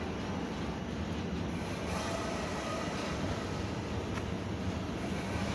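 A train runs along a railway line toward Jejkowice, giving a steady, continuous rumble that holds evenly throughout with no voices.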